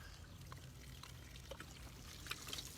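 Water poured onto soil to simulate rainfall in a farm erosion demonstration, a steady close trickling and splashing with a few brighter drips near the end.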